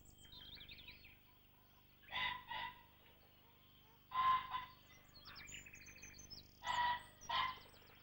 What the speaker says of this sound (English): Pheasants aren't difficult to spot, but they are even easier to hear, especially the crowing caw-caw of the males.